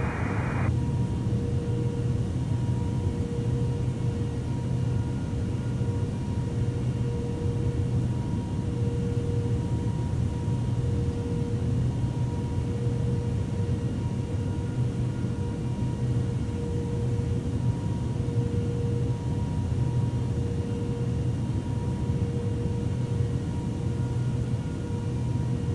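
Airbus A330-300 jet engines in the Infinite Flight game, a steady even roar with a low hum and a faint tone line, taxiing toward the runway at Heathrow, unbroken throughout.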